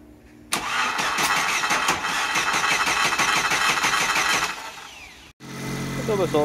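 A small car's engine, freshly repaired after a broken timing belt and with its battery reconnected, cranks and catches, then runs at a loud, steady idle for about four seconds before dropping away and cutting out, with voices nearby.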